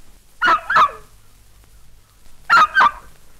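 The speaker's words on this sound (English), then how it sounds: "Barked the puppy." A puppy gives two pairs of quick, high yaps, separated by a short pause, close by with no talking.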